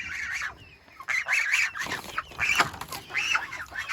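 Chickens in a coop on a homestead cluck and squawk in several busy bursts close by, some calls overlapping, with brief quieter gaps between.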